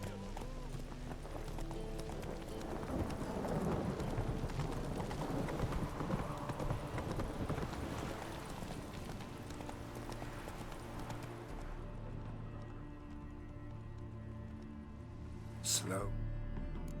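Horse hooves clip-clop in the Witcher 3 video game as the mount climbs stairs, a steady trotting rhythm under game music and ambience, with a voice talking over parts of it.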